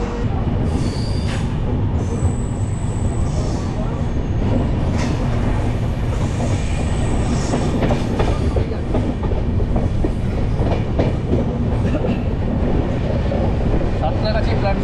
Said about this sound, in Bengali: সাঁতরাগাছি প্ল্যাটফর্ম ছেড়ে আমরা বেরিয়ে গেলাম খড়গপুরের উদ্দেশ্যে